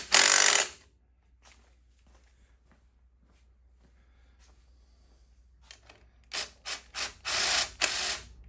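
Hand tools ratcheting and clanking while the headlight bolt of a Honda CT70 K0 is tightened, a loud burst at the start, a quiet stretch, then several close metallic ratchet bursts near the end.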